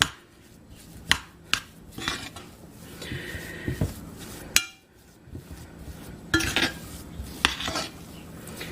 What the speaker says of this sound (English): Okay, just mix that around.